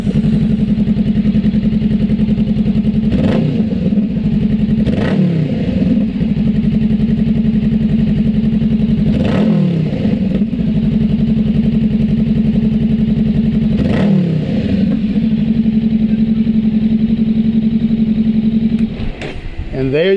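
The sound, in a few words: Honda Rebel 500 motorcycle with Coffman exhaust idling and revving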